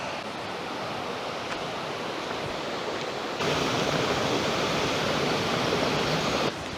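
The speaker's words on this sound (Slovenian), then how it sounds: "Kot se verjetno sliši, sem spet nekje v bližini vode." Rushing water and a waterfall near Kobarid give a constant broadband roar that suddenly swells louder partway through and then drops back slightly at the end, with no voices.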